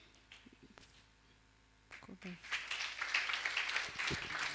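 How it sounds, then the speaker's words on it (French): Applause rises from a church gathering for a brother named Fred Dominic, faint at first and then swelling into steady, fairly loud clapping from a crowd after a brief lull. "Let's put our hands together for Fred Dominic"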